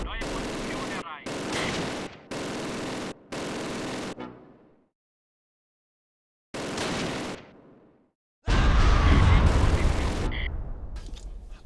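Heavy explosions and sharp blasts from artillery and mortar shells in the World War II strategy game Close Combat: Wacht am Rhein, several clipped bursts, a silent gap, then a deep, loud boom that rumbles on.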